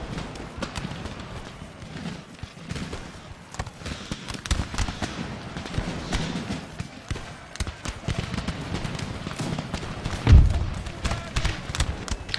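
Musket volleys crackle through a crossfire battle in Empire: Total War, with dense, overlapping pops rolling almost continuously and one sharper, louder report near the end, while a voice talks over the gunfire.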